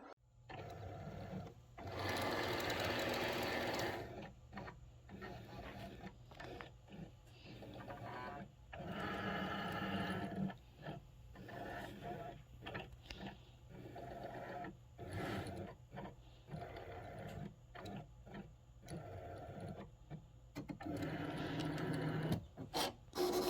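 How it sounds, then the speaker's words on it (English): A Cricut machine runs a test cut of a small square for print-then-cut calibration, its motor whirring and buzzing in stop-start bursts with mechanical clicks, close and steady, with no talking. "it'll do the test cut of the little square in the center"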